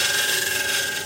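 A steel tool scrapes the end face of a turned wooden candlestick holder on a lathe, giving a brief, loud, continuous rasping whir.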